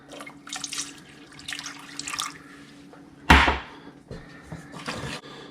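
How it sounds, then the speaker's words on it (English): Milk pouring into a pot of pulled pork macaroni and cheese, a short liquid splash and gurgle amid soft kitchen clatter. "At this point, I'm going to add some milk to it."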